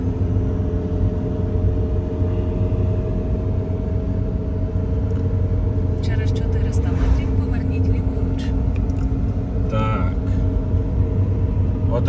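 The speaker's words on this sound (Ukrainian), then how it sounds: "Ми їдемо і дуже стрімкими серпантинами, дуже високо." A car climbs steep mountain serpentine roads in Croatia, its engine a steady low rumble that holds throughout, with faint higher noises drifting in over the drone.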